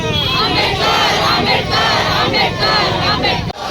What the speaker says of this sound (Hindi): उन्होंने मुर्दाबाद का नारा लगाते हुए पुतला जलाने की बात कही